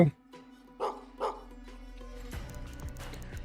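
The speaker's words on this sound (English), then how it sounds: "Alright, I hear another dog." A dog barks in the video game Gestalt: Steam and Cinder, two or three short yips over a quiet musical drone, followed by a thicker swell of game sound.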